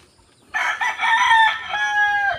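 Chickens and chicks clucking and crowing in a coop, a loud, close burst of calls that begins suddenly after a quiet moment and carries on without a break, with no talking over it.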